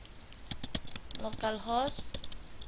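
Fingers tapping a computer keyboard in quick bursts of light clicks, close by, with a voice talking over the keystrokes partway through.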